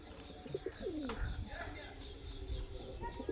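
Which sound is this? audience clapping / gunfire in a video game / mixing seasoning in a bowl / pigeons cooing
pigeons cooing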